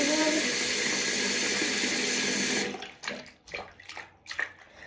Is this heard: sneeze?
no